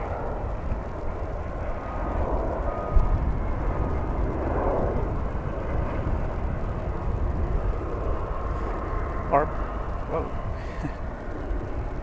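Jet airliners arriving and departing at DFW Airport, heard as a steady broad engine roar at moderate distance, with a commentator talking over it.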